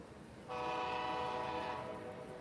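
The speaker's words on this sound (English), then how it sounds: "Train yard is busy." A train horn sounds loud and steady at a busy rail yard near Raleigh's Amtrak station, a sustained harmonic blast starting after a brief quiet moment and holding for about two seconds.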